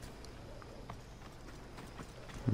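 Horse hooves clip-clopping in the video game Assassin's Creed Odyssey, a quiet, even trot of repeated hoof beats over a soft background, with a louder thump at the end.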